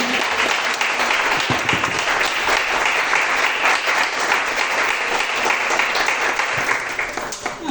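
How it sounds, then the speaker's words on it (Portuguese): Sustained applause from a large church congregation during a service, dense and steady clapping that carries on for several seconds before easing slightly at the end. "Aplauda o Senhor pela sua palavra nessa noite"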